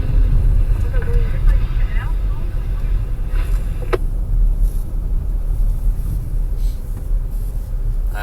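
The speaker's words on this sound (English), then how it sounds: "now we enter our Cayenne swimming pool" A Porsche Cayenne driving into a water pool on the Porsche Leipzig off-road test track, heavy engine rumble with splashing water and brief knocks, while people talk inside the cabin.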